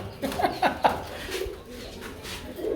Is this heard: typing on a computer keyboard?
no